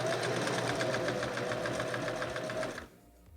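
A domestic sewing machine stitching fabric for a face mask runs in a steady, rapid rhythmic whir for nearly three seconds, close and alone, then stops abruptly into near silence.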